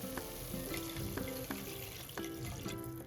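A glass of water is poured into a pan of fish curry frying with turmeric, a close splashing, sizzling gush lasting a few seconds while music plays in the background.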